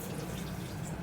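Half a cup of filtered water poured into a small sauce pot of granulated sugar, a short steady splashing stream, close and continuous.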